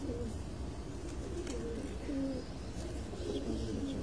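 Pigeons of an old pure breed coo softly in low, repeated throaty calls from a rooftop loft, faint and steady with no one talking.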